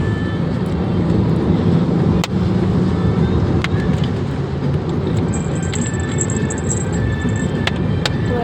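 Steady road rumble heard from inside an air-conditioned car travelling toward Bandel, a continuous loud drone with a few faint clicks and ticks scattered through it.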